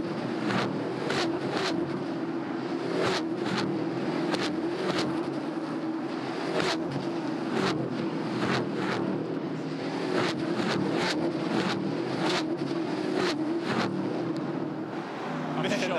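V8 ute race cars roar past on the Adelaide street circuit, a steady engine drone broken by repeated sharp bursts as cars pass, heard at a distance under wind noise and race commentary.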